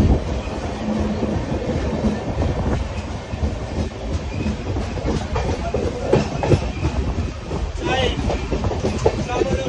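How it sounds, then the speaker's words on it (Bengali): A passenger train running from Howrah toward Digha at around 100 km/h gives a steady loud rumble with clattering wheels and rail noise throughout, heard from inside the carriage with no talking. "ট্রেন কিন্তু মোটামুটি ভালো স্পিডে চলছে"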